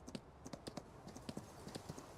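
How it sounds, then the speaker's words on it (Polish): Horse hooves clip-clop steadily as a horse is ridden in Farming Simulator 19, a quick even rhythm of crisp, close hoof knocks at moderate loudness with no talk. "Czyli koń sobie jedzie"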